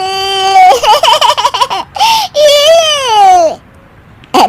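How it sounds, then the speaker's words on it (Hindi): A cartoon baby cries in loud, wavering wails, broken by short sobbing catches and a brief pause, then starts up again at the end, heard close and alone without other talk. "अरे बेटा, ये बच्चे के रोने की आवाज कहाँ से आ रही है?"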